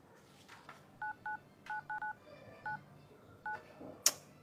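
A phone number is dialed as a series of short, faint keypad tones in an uneven rhythm over a low room background. A sharp click comes at the end.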